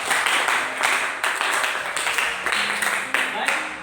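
Students in a classroom giving a short round of applause, a steady patter of clapping lasting a few seconds with faint voices mixed in.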